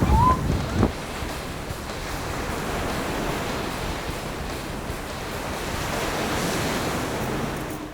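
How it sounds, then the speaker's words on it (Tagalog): Ocean waves crash and surge at Canhugas Nature Park, a continuous broad roar of surf with wind buffeting the microphone, a sharp splash near the start and a swell building again toward the end. "sunod-sunod na ang paghampas ng alon"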